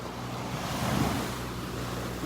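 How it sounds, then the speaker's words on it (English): Waves break along the beach at Delnor-Wiggins in Area 5, a continuous, moderately loud wash of surf with a slight swell midway, mixed with wind noise and no talking. "The waves always tend to pick up a little bit up here"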